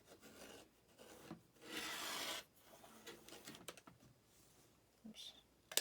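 Fabric strips for a quilt border are cut with a blade, giving close rasping, scraping strokes and a longer grinding pass, broken by small clicks and handling noises; no one speaks.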